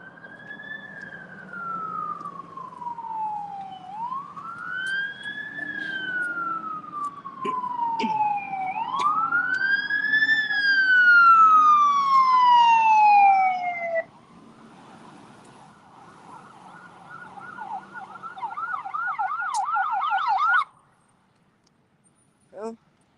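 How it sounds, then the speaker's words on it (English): An emergency vehicle siren wailing in long rising and falling sweeps, then switching to a fast warbling yelp before cutting off, fairly close and loud, with a faint voice underneath. "don't turn off the siren"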